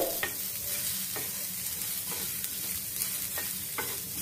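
A medium onion dry roasting in a pan with no oil gives a steady close hiss and crackle, broken by a few scraping stirs at irregular intervals, with no voices.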